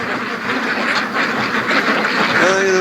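Free-range ducks quack repeatedly near a pen on a farm in the morning, a busy overlapping chorus of close calls, with a person's voice faintly audible underneath.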